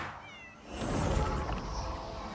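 A cat in the PC game Crimson Desert gives a brief, thin meow. A louder wash of rumbling in-game ambience then rises and carries on to the end.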